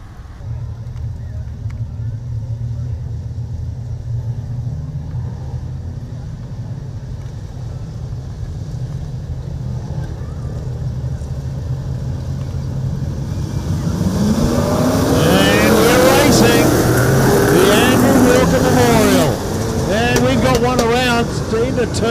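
Race cars roar away from the start of a race, a low rumble building into a loud, dense chorus of revving engines passing close, with commentary talking over it.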